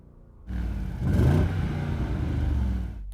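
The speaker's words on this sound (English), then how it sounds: "Yeah, I am revving it, Matt, but unfortunately it's got a soft lim" An Audi RSQ8 engine starts up and is revved once, rising to a brief peak before holding at a steady throaty idle, close and fairly loud.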